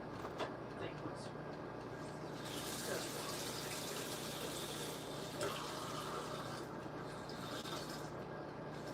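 Hot water running from a tap into a cup while bread dough is being made, a steady close gush that fills the clip, with the pitch rising slightly as the cup fills.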